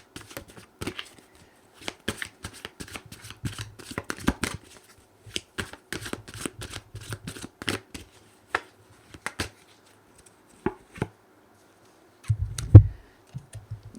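Tarot cards shuffled by hand, rapid crisp riffles and slaps in uneven bursts, close up, then sparser taps with a soft thump near the end.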